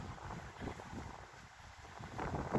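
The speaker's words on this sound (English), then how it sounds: "You have to forgive me with the wind, I might have to speak a bit louder, it's very windy." Gusty wind buffeting the microphone in low rumbling bursts outside a 13th-century church in Nailstone, rising and falling, with a faint rustle underneath and no one speaking.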